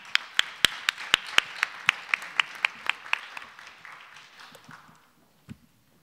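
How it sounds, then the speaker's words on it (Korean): Clapping from a small conference audience welcoming panelists onto a stage, a series of distinct, fairly sharp claps in a steady rhythm that thin out and fade within a few seconds, one last stray clap after a pause. "큰 박수로 환영해 주시기 바랍니다"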